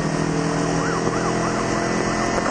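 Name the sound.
emergency vehicle sirens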